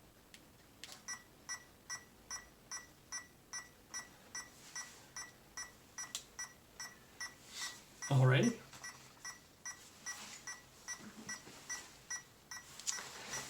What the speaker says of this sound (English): LED red light flashing and beeping